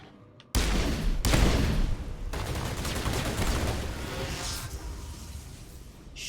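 Sustained burst of gunfire in the video game Mass Effect, a dense loud barrage that starts abruptly and continues steadily at slightly lower level to the end, with no talking over it.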